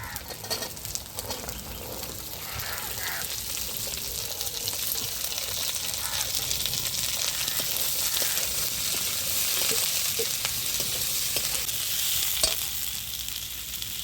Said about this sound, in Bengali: মশলাটা লাল লাল করে ভাজা হয়ে গেছে, তেল ছেড়ে দিয়েছে, এবার আমি বিনস আর আলুটা দিয়ে দেব।